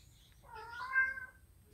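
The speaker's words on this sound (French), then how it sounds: "Oui, le chat." A domestic cat meows once indoors, a clear drawn-out call rising and falling over faint low background rumble, fairly close and moderately loud.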